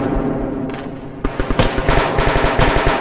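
Rapid bursts of machine gun fire in a Roblox military simulation, starting quieter and becoming louder, closer repeating shots in the second half.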